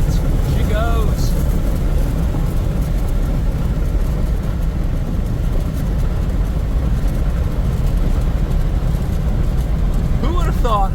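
A car with a swapped LS engine and a worn 4L60 automatic transmission drives along, its engine a loud, steady low drone from inside the cabin, with faint voices near the start and end.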